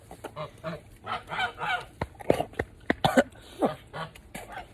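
Several harsh geese honks ring out in irregular bursts, some overlapping, close by with a hiss of background noise between calls.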